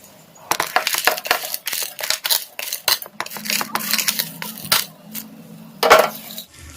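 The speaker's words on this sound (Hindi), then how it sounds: "इसके बाद एक एक करके हम जो ड्राई फ्रूट भून के रखे थे ना वो डाल देते हैं" Roasted dry fruits tumble one by one into a metal pan, giving a series of sharp clattering rattles and crisp clicks, irregular and close, with a brief stir-like scrape partway through.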